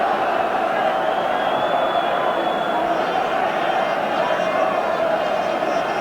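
A large football crowd at a Scotland v England Rous Cup match in 1989 keeps up a continuous roar in a stadium under a commentator's voice.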